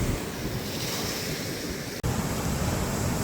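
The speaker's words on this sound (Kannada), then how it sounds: "ಸಖತ್ತಾಗಿರ್ತೊಳ್ಳೆ ಅಲೆ ಹೊಡೆದ್ರೆ ಹಂಗೆ" Sea waves crash at the beach below Bekal Fort, a steady, loud, dense roar of surf mixed with heavy wind buffeting the microphone and a brief dropout midway, with no voices.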